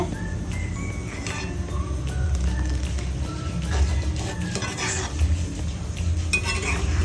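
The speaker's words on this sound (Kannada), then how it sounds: "ಇವಾಗ ಮಸಾಲ ಕುದೀತಾ ಇದೆ" Fish curry masala bubbling in a pot, a steady low simmering churn with occasional clinks of a utensil against the cookware, heard close and alone without speech.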